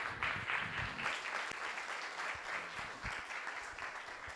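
A church congregation at a family service claps in a soft, steady round of applause heard from a slight distance, with a few sharper individual claps poking through.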